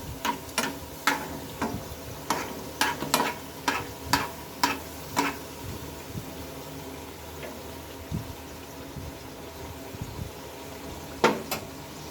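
Potato dish frying in hot oil with a steady low crackle, broken by a series of sharp spoon scrapes and taps against the pan, then a quieter stretch before two more knocks near the end.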